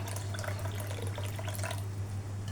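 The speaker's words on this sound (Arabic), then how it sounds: "هنزود ميه سخنه" Hot water poured into a pot of koshari tomato sauce, a steady close splashing and trickling stream with a low hum underneath.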